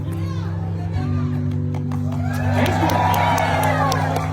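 A young storytime audience cheers and whoops in a loud, rising burst of high voices, swelling in the second half with crowd noise throughout.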